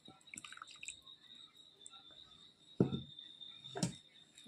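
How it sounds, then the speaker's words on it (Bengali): Less than a cup of milk poured into eggless mango cake batter made without an oven, with soft wet drips and two short splashy bursts near the end over a faint steady high whine. "এক কাপের কম দুধ দিয়ে দিচ্ছি।"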